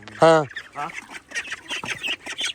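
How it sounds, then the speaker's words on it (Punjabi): White ducks quack nearby, starting with one loud, nasal quack and followed by rougher, overlapping calls mixed with people talking. "ਹਾਂ ਇਹ ਬਤਖ ਦੀ ਆਵਾਜ਼ ਆ"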